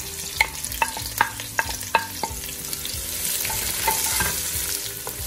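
Chopped onions sizzle in a pan while a spoon scrapes and stirs them in several quick strokes, a steady close frying hiss under the clatter, while cooking dinuguan.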